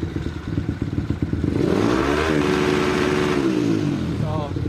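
A motorcycle engine fitted with a UMA Racing CDI, revving up against its 9,000 RPM rev limiter, a close rattling idle climbing into a sustained high wail that holds, then falls back and bounces off the limit again.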